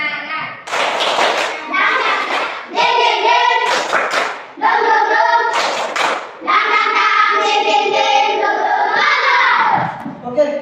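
A classroom of Indonesian schoolchildren performs a rhythmic spirit clap, bursts of patterned hand claps alternating with their chanted voices, close and lively, the group clapping and calling together in short phrases.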